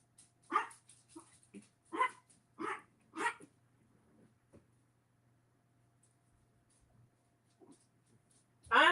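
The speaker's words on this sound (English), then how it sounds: "I have a dog that likes to get into trouble up there." A pet dog barks indoors in a home, a burst of five or six sharp barks in quick succession, then quiet with a faint hum, and one more loud bark at the end.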